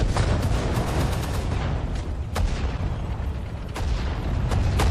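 Tank cannon fire in the Sudden Strike 4 Battle of Kursk game, a series of sharp, booming shots cracking out over a continuous rumble of battle noise, several distinct blasts spread irregularly across the stretch.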